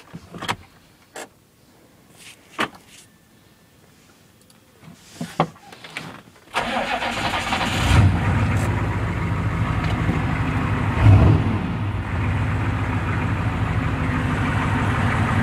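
A 5-speed truck with a check engine light on cranks and starts after several small clicks and clunks, then settles into a loud, steady, rumbling idle with a couple of brief revs, heard close up and without talking.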